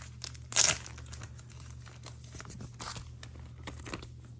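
A graded trading card slab is slipped into a plastic mag bag with one loud, close crinkle of plastic, followed by fainter rustling and handling.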